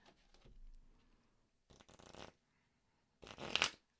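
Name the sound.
shuffling a tarot card deck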